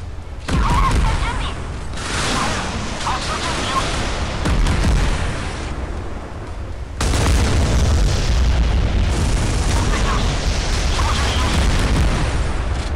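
Warship cannons in the Modern Warships game, with the USS Missouri and IJN Yamato, fire heavy booming blasts in bursts, loud and rumbling under occasional game sounds.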